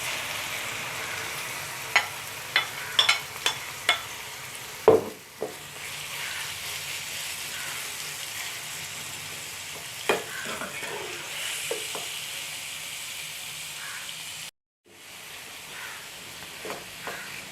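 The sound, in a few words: marinated chicken frying in oil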